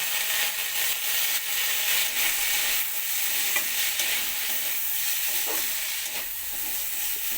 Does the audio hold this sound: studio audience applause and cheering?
no